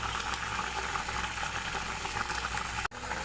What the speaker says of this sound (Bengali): গরম মশলা দিয়ে ভালো করে ফুটিয়ে নিয়েছি